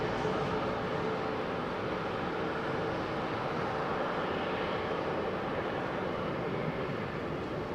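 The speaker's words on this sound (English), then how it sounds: "Nice Malaysian 350 going out on the right-hand runway." A Malaysia Airlines Airbus A350 taking off from a Heathrow runway makes a continuous, moderately distant engine roar that holds steady throughout without speech.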